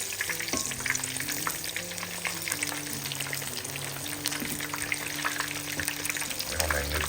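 Turmeric-coated fish sizzles in a pan for fish and chips, a steady close crackle of frying with scattered pops and a low background hum, no talk.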